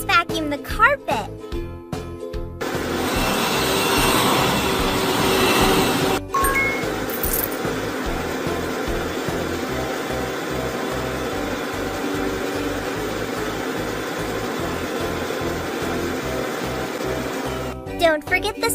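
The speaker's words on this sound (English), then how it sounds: "Let's vacuum the carpet." A vacuum cleaner hums steadily across a carpet in a baby care video game, a continuous whirring drone over looping game music, framed by brief chimes at start and end.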